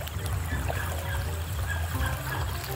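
A strong river rushes and churns steadily at night in the Philippines, a dense continuous wash of moving water with a low rumbling roar underneath, close and unbroken.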